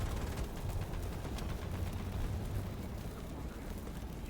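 A Leopard 2 PL tank fires at a helicopter in the video game War Thunder: dense, continuous gunfire and blasts roar without a break, loud and close throughout.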